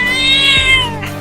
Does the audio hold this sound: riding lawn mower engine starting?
no